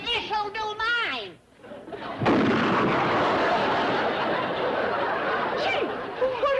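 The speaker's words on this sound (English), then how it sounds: "She has a gun? A cannon." A cannon fires in a TV comedy scene set at a castle. One loud blast bursts in after someone speaks and rumbles on as a long, noisy roar, ending in a brief squeal.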